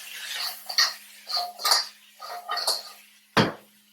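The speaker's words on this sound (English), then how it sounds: "Give it a quick toss." Crab pieces tossed in a pan for Singapore chilli crab give a few clattering metallic rattles in quick bursts, close by, ending in one sharp clink.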